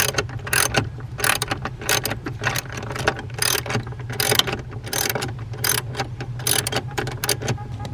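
Rapid clicking of a ratchet wrench driving a bolt down onto a 2020 Toyota Tacoma truck frame, close and steady in repeated bursts over a low mechanical hum.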